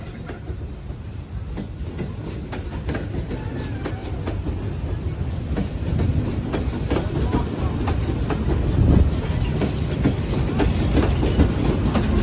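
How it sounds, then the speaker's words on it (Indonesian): An Indonesian passenger train departs and rumbles past close by, wheels clattering rhythmically over the rails with a steady, loud roar. "Dengan diberangkatkan kereta api Parsel Selatan"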